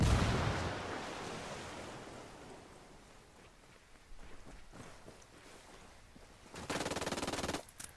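Gunfire in the video game Ghost Recon Wildlands: a loud opening burst fades out, then sharper shots crack later, ending in a sustained rapid automatic volley near the end.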